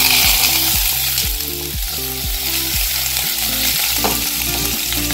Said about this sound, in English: We cook this sausage and we will make the sauce, the pomodoro sauce.